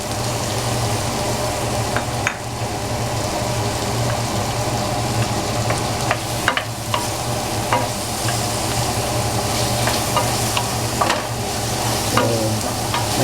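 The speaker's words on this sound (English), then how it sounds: "once the garlic starts sticking on the pan, we can add our onions" Chopped onion and garlic sizzle and fry in a pan for Filipino paksiw na lechon, a steady close hiss broken by occasional scrapes and stirs, with no talking.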